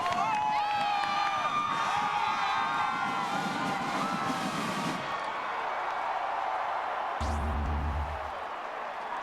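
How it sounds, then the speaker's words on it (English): Stadium crowd roaring and cheering at a 2004 Oklahoma Sooners vs Texas A&M college football game, a loud sustained wash of voices with whoops and shouts, broadcast commentary talking over it. "This crowd again is electrified. And I mean, they are making some noise."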